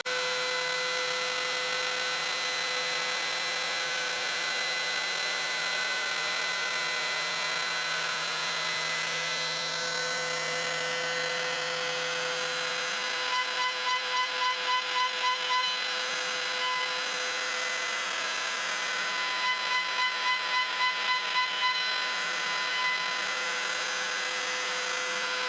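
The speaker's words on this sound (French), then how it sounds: "je recommence l'opération de perçage des inserts" Holes drilled for threaded inserts in a wooden coffee table top, a steady machine whine running throughout with rhythmic grinding pulses bunching up in two bursts near the end, no voices.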